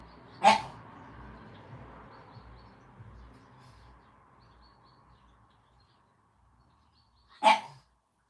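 A dog in a house lets out two sharp, distinct barks several seconds apart, with a faint chirping and quiet indoor background between them.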